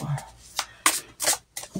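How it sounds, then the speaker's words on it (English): A deck of tarot cards is shuffled by hand in a quiet room, giving several short, crisp riffling and slapping bursts spaced irregularly, close and moderately soft. "I feel called to shuffle these better."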